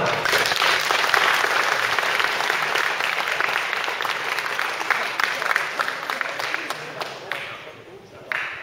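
Audience applause from a crowd at a live talk on virtual reality fills the room with dense, steady clapping that slowly thins out toward the end.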